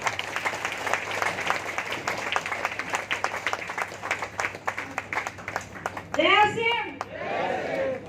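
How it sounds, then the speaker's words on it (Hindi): Applause from a seminar audience for a guru's wife, loud dense clapping that fades irregularly, then gives way near the end to a voice speaking alone into a microphone. "पहले गुरुमाता के लिए एक जोरदार ताली।"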